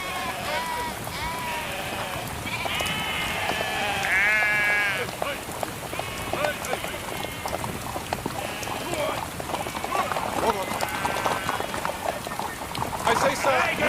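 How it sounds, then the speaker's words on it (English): Sheep bleating on a country road in light rain, several animals calling repeatedly and fairly close over a steady patter, with a few indistinct voices in between. "I say, sir, move your sheep, please."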